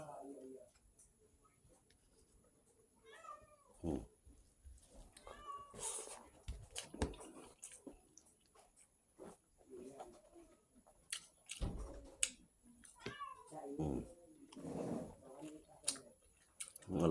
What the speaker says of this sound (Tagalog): Ang alaga kong pusa nakakamoy na.